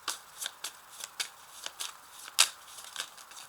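Tarot cards shuffled by hand in a 32-card deck, a run of crisp riffling bursts in an uneven rhythm with one sharper flurry near the end, close and clear with no talking.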